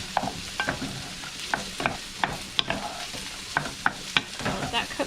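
Steak seasoned with kosher salt sizzles in a pan for fajitas, a steady frying hiss broken by repeated sharp clicks and scrapes of stirring, close and fairly loud, with no talk.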